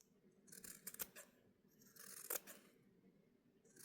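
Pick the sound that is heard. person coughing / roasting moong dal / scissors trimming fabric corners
scissors trimming fabric corners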